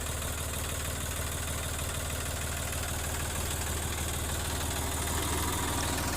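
A Sonalika 42 tractor engine runs at a steady, rumbling idle with a dense knocking diesel throb, close and constant throughout, no voices.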